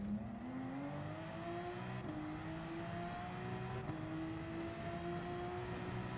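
A Gran Turismo 7 race car engine in game, a steady whining drone that climbs in pitch through each gear and drops briefly at every shift, continuous and moderately loud.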